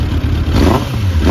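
A 2005 Suzuki Katana 750 sport touring motorcycle fitted with an aftermarket Yoshimura exhaust, revving loud and close, a throaty, rumbling engine note that swells and eases over a brief moment with no voices.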